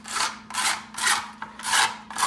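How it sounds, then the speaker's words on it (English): A stout rougher rasps across a smooth deer ear liner for taxidermy in five steady back-and-forth strokes, close and fairly loud, with no talking. "A stout rougher works really good. Just rough that up real quick."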